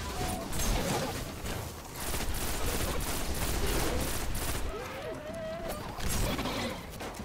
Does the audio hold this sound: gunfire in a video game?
yes